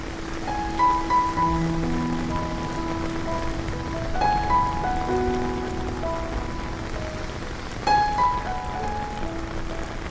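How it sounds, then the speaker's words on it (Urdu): Steady monsoon rain pours in Lahore, a dense continuous hiss of drops striking surfaces, with faint tonal sounds drifting over it throughout. "پہلی بارش۔"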